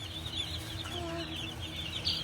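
Rare-breed chicks, including Barnevelders, Black Pomeranians and Coronation Sussex, cheep and cluck steadily in indoor brooders, a close, continuous chorus of high chirps over a low background hum.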